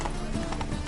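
Roach, the horse in The Witcher 3, gallops in a quick, loud, steady clip-clop of hooves, heard close up, with a brief game voice faintly underneath.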